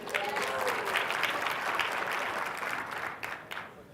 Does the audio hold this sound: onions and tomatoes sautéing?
no